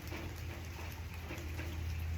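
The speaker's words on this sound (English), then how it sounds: "I can sit here and just listen and enjoy the rain." Steady rain falls without a break, a constant even patter filling the whole stretch with a low rumble beneath, with no voices.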